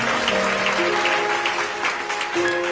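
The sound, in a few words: congregation applause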